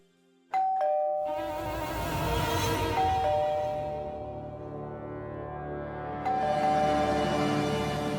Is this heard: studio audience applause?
no